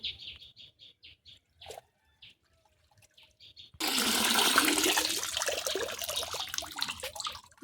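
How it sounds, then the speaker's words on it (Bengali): Birds chirp in short bursts, then running water starts and streams steadily as ribbonfish are washed, loud and close for the rest of the moment. "মাছগুলো খুব ভালো করে জল দিয়ে ধুয়ে নিয়ে যাচ্ছি"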